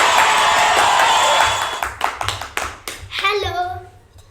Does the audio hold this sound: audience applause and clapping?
yes